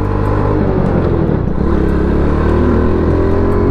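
A motorcycle engine with a carburetor in need of repair runs close by with a steady low drone and uneven revving, lasting throughout with no voices.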